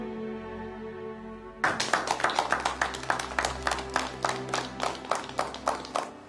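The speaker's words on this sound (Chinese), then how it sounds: "我第一个为他鼓掌" Clapping for an official at a meeting bursts in after a quiet, humming stretch: a steady run of crisp, evenly spaced claps from a small group, continuing to the end.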